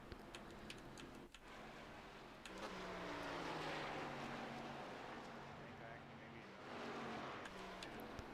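A race car engine roars in a racing video game during an online league race, with a sustained drone whose pitch climbs and holds. The sound is fairly faint and steady, with a short dip near the start.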